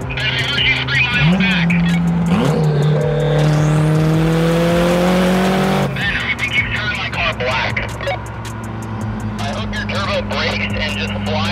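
Loud car exhaust revving hard in a sustained, rising roar with the engine tone climbing, then cutting off into a rumbling idle with voices talking nearby.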